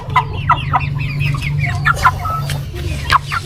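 Three-month-old chickens, six hens and a rooster, cluck in short rising calls close by, several birds overlapping over a steady low hum.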